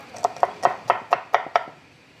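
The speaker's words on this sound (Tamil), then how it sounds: "இப்போ எடுத்து வச்சுக்க பூண்டை பொடியை நறுக்கிப்போம்." A knife chops garlic finely on a board in seven quick, evenly spaced sharp taps, close and clear in a quiet kitchen.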